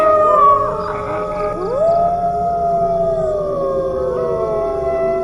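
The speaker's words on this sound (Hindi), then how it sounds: "उसे लगा जैसे सियार कहीं चिल्ला रहे थे।" Jackals howl in the night, several wavering, sliding cries overlapping one another and holding steady and fairly loud throughout, with no voices present.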